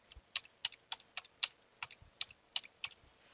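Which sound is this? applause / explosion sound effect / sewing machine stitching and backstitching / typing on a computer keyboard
typing on a computer keyboard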